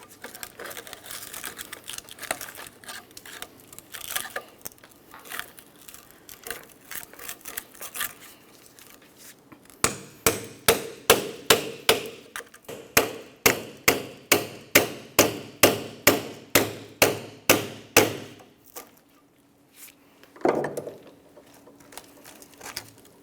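Pry bar working a stuck rear backing plate loose from its bracket on a 1994-2002 Ram 2500, giving a long run of sharp, evenly spaced metallic knocks close up, then one last clank after a pause.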